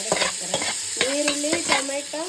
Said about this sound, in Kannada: ನೀರುಳ್ಳಿ ಟೊಮೆಟೊ ಮತ್ತೆ ಕರಿಬೇವು ಹಾಕಿ ಫ್ರೈ ಮಾಡಿದ್ದೀವಿ